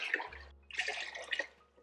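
Water pours into a pot for pickling brine, a brief splashing gush heard close up. It stops briefly and then resumes.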